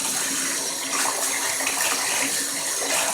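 Lukewarm tap water runs steadily into a bathtub, filled to give a trumpet a cleaning bath, a continuous close splashing gush with no talking.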